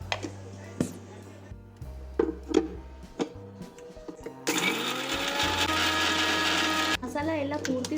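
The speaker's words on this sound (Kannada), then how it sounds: "Mixie ಜಾರ್ದಾಗ hockey grind ಮಾಡತ್ತೀನಿ." A mixer grinder grinding roasted spices for egg curry starts with a few taps and clicks, then whirs loudly and steadily for a couple of seconds before stopping abruptly, with a short burst of grinding after.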